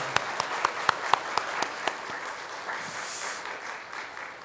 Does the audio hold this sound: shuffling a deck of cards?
no